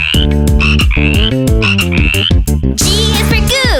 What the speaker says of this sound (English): F is for frog. Ribbit, ribbit.